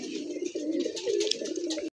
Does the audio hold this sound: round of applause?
no